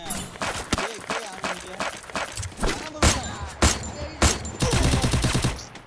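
Shooter video game gunfire: rapid bursts and single sharp shots crackle in quick succession, ending in a dense volley, with players talking over the action.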